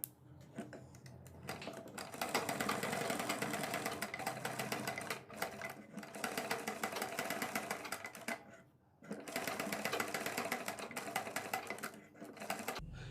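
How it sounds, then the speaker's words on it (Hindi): Sewing machine stitching a kurti neckline with matching thread, a steady close whirring rattle in several long runs separated by short pauses, no talk. "अब हम बाहर की तरफ 1/4 इंच चौड़ी एक मैचिंग कलर धागे से सिलाई लगाते हैं।"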